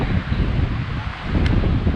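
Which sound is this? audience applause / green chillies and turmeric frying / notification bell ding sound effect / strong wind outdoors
strong wind outdoors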